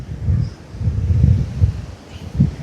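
Strong wind blows at the seashore in Jaffna, Sri Lanka, buffeting the microphone in low rumbling gusts that rise and fall several times.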